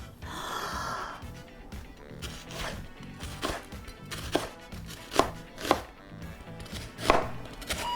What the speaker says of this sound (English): I'm going to cut some long slices.